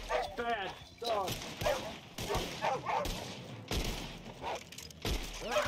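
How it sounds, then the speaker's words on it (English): Wolves attack in the Red Dead Online video game, with repeated close, loud barks and yips bursting out in quick bunches under and between overlapping talk from several players. "Where'd all these wolves come from?"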